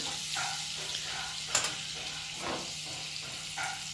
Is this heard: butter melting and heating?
yes